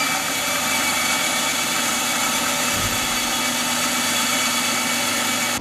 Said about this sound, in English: let's take this over and cut it out on the bandsaw